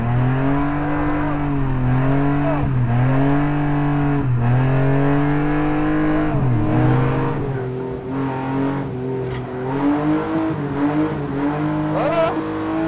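Car engine revving hard through repeated rising and falling sweeps during a first attempt at drifting, loud and close, with sustained strain and brief dips between throttle bursts.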